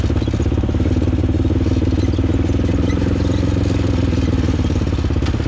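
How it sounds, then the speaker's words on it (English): Motorcycle engine braking downhill on a wooded trail, a steady pulsing engine drone held at constant speed, loud and close with rhythmic clatter, no talking. "I'm gonna kind of rely on the engine to slow me down."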